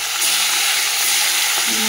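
Parshe fish sizzle loudly in hot oil, a steady bright crackling fry close up with a faint voice near the end.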